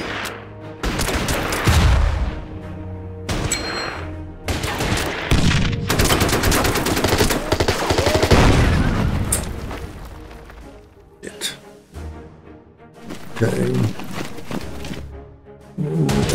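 Anti-aircraft guns rattle and explosions boom in a video game battle over Shanghai, with dense bursts of rapid fire and heavy blasts broken by short lulls, loud and close throughout.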